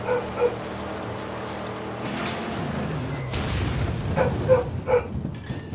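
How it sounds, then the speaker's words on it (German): A dog barks a few times in the background, somewhat muffled, over a low rumble of game noise during Mad Max gameplay. "jetzt hört ihr den Hund schon wieder im Hintergrund"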